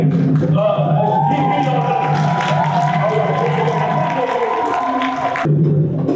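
Crowd cheering and applause greeting the visiting King of Ghana at Essex County College, a sustained mass of voices with whoops and clapping, cutting off abruptly near the end.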